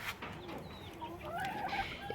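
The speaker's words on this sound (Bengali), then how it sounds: "কিরণমালা নতুন মুরগি" Chickens, including a newly added hen, cluck softly in a backyard flock, with a few rising calls toward the end; fairly quiet and steady with no talk.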